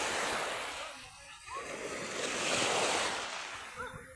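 Strong ocean waves roll onto a beachfront in Batangas, a steady loud roar of surf rising and falling with wind buffeting the microphone throughout.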